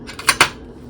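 A small stainless steel bowl is set into an air fryer with two quick, close metallic clinks, then quiet.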